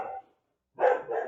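A pet dog barks: one short bark, a brief silence, then two louder, close barks in quick succession, with no talking.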